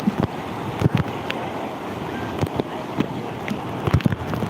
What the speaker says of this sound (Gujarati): માનગઢમાં તો વરસાદ આજે ભૂકા બોલાવી દીધા છે